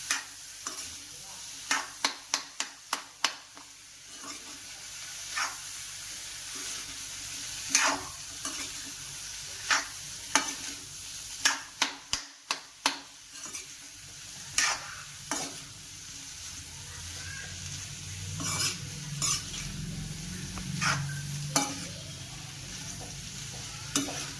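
A spoon stirs a toor (pigeon pea) curry in a pan: sharp scraping clacks in quick bursts, then sparser strokes, over a soft low simmer and sizzle, close and otherwise quiet with no talk.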